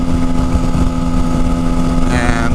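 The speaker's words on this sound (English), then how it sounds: "as soon as you shift from first to second and you're going 45, it's the engine runs a little bit rougher" A 2012 motorcycle engine running in second gear at about 45 mph, a steady, loud, close drone with a rough, uneven rumble and a constant hum throughout.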